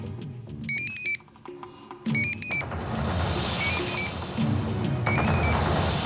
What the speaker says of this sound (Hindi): मैडम, जैकॉल को फोन।